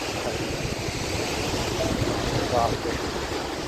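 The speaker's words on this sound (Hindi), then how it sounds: "कितना बड़ा वाटरफॉल कभी नहीं देखा सही में, मतलब चौड़ाई में, ऊंचाई ज़्यादा नहीं है पर चौड़ाई बहुत ज़्यादा है।" Gaganachukki Falls, a very wide waterfall, gives a steady broadband roar of rushing water that fills the whole stretch, with some wind buffeting the microphone and a crowd murmuring nearby.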